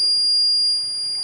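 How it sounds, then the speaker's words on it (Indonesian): A buzzer on a gas sensor module gives one continuous, steady high-pitched electronic tone, triggered by the sensor's digital output, and holds unbroken for the whole moment with no voices. "Ini ketika si sensor mengeluarkan digital output, maka buzzer akan menyala."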